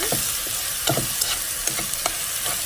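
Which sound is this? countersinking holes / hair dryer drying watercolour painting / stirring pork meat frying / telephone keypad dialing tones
stirring pork meat frying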